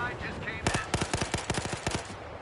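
Rapid automatic gunfire from a Battlefield Hardline online match, a burst of closely spaced loud shots near the listener over low background game noise.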